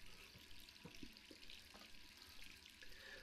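A tap runs in the Resident Evil 3 video game, water streaming steadily at a low level with faint splashes and clinks over a constant hiss and no speech.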